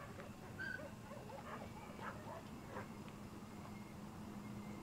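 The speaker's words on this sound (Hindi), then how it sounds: "ऐसे लग रहा है जैसे किसी कुत्ते को मारा नहीं जा रहा," Faint, distant dog whimpers and yelps, pained and intermittent, drift over a steady low hum and background noise near an old lighthouse.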